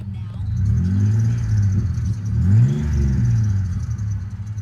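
A broken truck engine with its check engine light on cranks, catches and revs in a deep, loud, uneven rumble that swells and dips twice over several seconds, close by with no talk.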